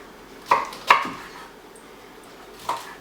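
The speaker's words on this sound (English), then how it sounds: "So I'm going to cut some more of the cabbage." A knife slices through purple cabbage on a cutting board, three crisp crunchy chops, two in quick succession and one after a pause, close by in a quiet kitchen with no talking.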